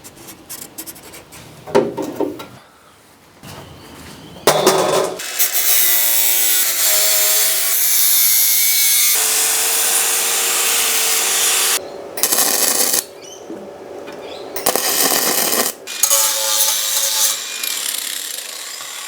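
Sanding welded metal in a car's engine bay produces close, harsh rasping that comes in long bursts, separated by short pauses, over about nineteen seconds; no one speaks.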